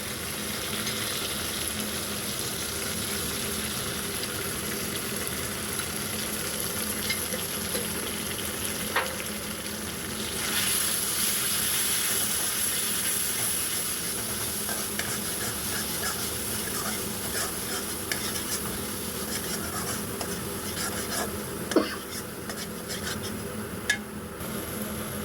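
A browning onion-and-spice mixture fries in a pan for a prawn malai curry as turmeric and chili go in, a continuous close sizzle with occasional stirring scrapes and a couple of sharp clinks, no talk.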